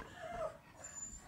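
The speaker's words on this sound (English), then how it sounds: "Mateo, no yawning, yeah, that's my dog" A pet dog named Mateo gives a short, soft whimpering yawn, a faint high whine lasting under a second. It sits low beneath quiet room tone and fades out quickly.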